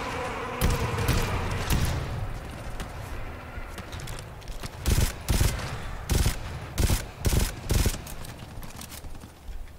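Coordinated gunfire in the co-op shooter GTFO, an opening volley of shots followed by a rapid series of loud, sharp bursts spaced about half a second to a second apart, close and dominant with no talk.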